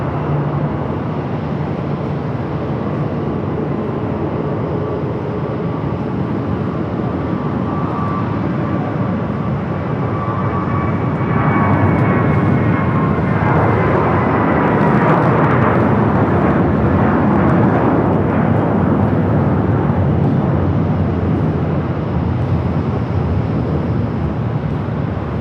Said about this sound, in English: JetBlue A321 flight heading back to Florida.